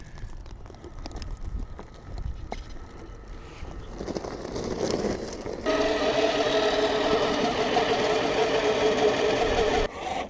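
A large RC Unimog truck's electric motor whines as it climbs a very steep slope, a thin buzzing drone that rises into a louder, steadier whir as wheel speed builds, then cuts off near the end.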